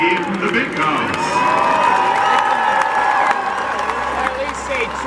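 A stadium crowd at a Michigan Wolverines versus Army Black Knights pregame cheers and applauds as soldiers land in the Big House, a broad sustained roar with clapping and shouts, loud and continuous throughout.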